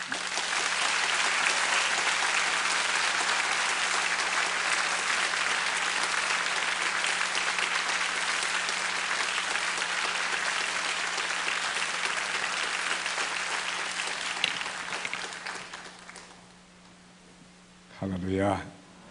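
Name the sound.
church congregation applauding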